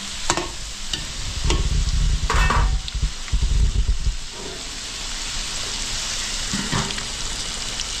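Carrots and potatoes frying in a pan for menudo, a steady loud sizzle with bursts of stirring and scraping in the first half, then a continuous even hiss with no voices.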